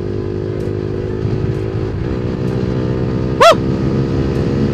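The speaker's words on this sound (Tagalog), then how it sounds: "Sound check ng kalkal pipe natin." Honda RS150 motorcycle with a kalkal exhaust pipe idling and revving nearby, a throaty steady engine drone with one brief sharp rev spike, and a man briefly cheers once.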